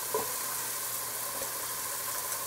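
Purple onions and kale greens sizzling steadily in a hot pan, with a constant hissing fry and a faint stir or two near the start, and no voices.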